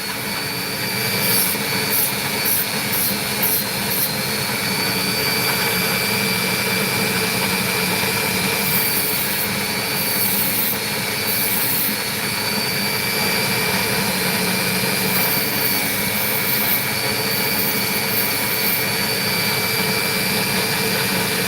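An opal being shaped on a lapidary cutting machine gives a steady, loud grinding whine that runs unbroken throughout, with faint higher squeaks now and then and no talking.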